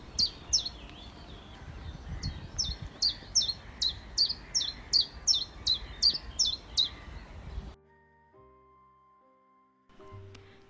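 A common chiffchaff sings a fast, repetitive series of bright, evenly spaced chirping notes, then the song stops and it goes quiet.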